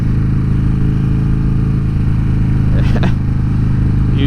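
A 2014 Harley-Davidson Dyna Fat Bob motorcycle cruising, its engine giving a loud, steady low rumble throughout, with a brief faint sound over it near the end.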